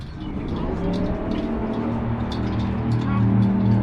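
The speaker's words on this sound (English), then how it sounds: "Some sort of loud car." A loud car engine rumbles steadily close by at a park with a memorial statue, holding a constant low drone throughout while people talk over it.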